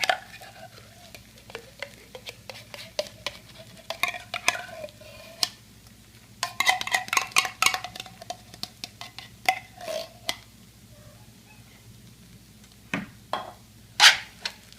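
Condensed cream of chicken soup being stirred in a pan for hash brown casserole: repeated scraping and clinking of a utensil against the pan in irregular bursts, close up, over a faint sizzle and quiet background hum.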